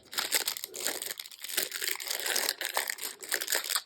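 Close crinkling and crunching of packaging material, with snipping and tearing rustles continuing steadily for a few seconds, no talking.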